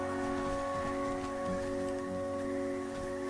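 Steady rain in the survival game The Flame in the Flood, a continuous even hiss with a faint tonal music-like hum beneath, holding at a constant moderate level with no talk.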